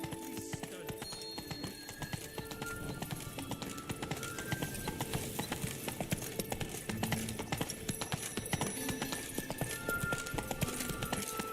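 Horse hooves trotting steadily in The Witcher video game, a continuous rhythmic clip-clop beneath ambient game sound, with a brief neigh-like tone and faint voices in the background.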